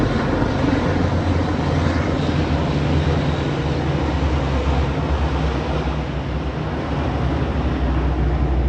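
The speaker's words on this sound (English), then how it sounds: "the fighter planes that went through first" Military fighter jets fly over Paris during a Bastille Day parade, a loud continuous low roar of engines that fills the whole stretch and holds steady without letup.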